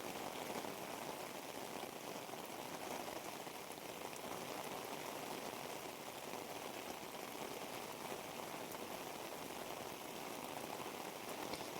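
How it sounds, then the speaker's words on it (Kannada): Light rain patters softly and evenly in the mountains around Kudremukh, a faint, continuous hiss of drops with no voices. "ಸೊ ಮಳೆ ಸ್ವಲ್ಪ ಬಿಡ್ತಾ ಬರ್ತಾ ಇದೆ ಇವಾಗ."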